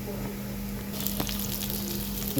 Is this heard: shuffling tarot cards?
no